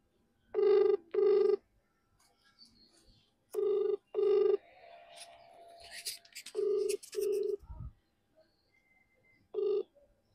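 A phone rings back while a friend is being called: paired ringback tones repeat three times at regular intervals, with soft movement noise and a brief rustle between the rings.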